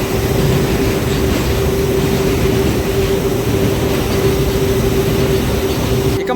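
A MEMU passenger train on the Kacheguda to Raichur route runs with a loud, continuous rumble and a steady drone, heard from on board without pause or talking.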